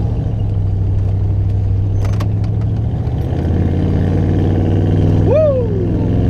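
A Class B RV campervan with a newly installed dual exhaust accelerates hard on the road, its engine droning loud and steady with a rising rev near the end.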